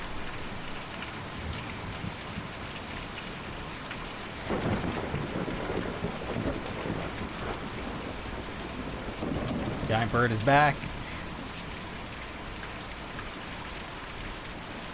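Steady rain hiss runs throughout the Kentucky Route Zero game scene, with a low rumble of thunder rolling in near the middle and a brief louder crackle later, while a voice speaks over it.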